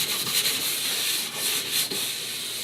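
A soft nylon brush polishes a waxed ski with a steady back-and-forth hiss under firm pressure. The rubbing swishes rise and fall in close, even strokes.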